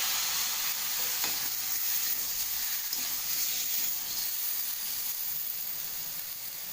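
Turmeric and Kashmiri chili paste stirred into potato and pointed gourd frying in a pan: a continuous close sizzle with scraping stirring strokes and no voices.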